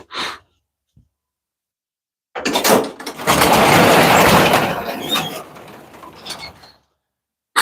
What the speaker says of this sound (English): Let me open a big door.